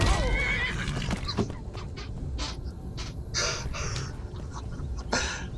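Horse neighing in the video game Skyrim, a loud whinny followed by snorts and breathy calls at close range over steady game ambience.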